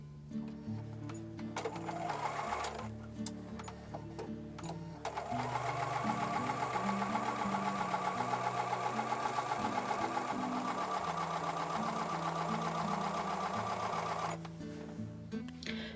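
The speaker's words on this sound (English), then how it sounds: "I'm going to take these over to the sewing machine and sew with a 1/4 inch seam allowance." A sewing machine runs in a fast, even stitching rhythm, sewing a quilt seam, starting after a brief pause and stopping near the end, close by.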